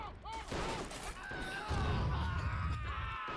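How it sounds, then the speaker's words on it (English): A machine gun rattles in a First World War shooter game, a dense rapid burst heard in the midst of battlefield noise and rumble. "Somebody kill that damn machine gun."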